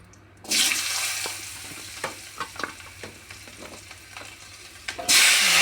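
Potatoes and a bay leaf drop into hot oil already tempered with cumin, bursting into a loud sizzle, then a steadier frying crackle with scattered stirring clicks and pops before a fresh loud hiss surges at the end.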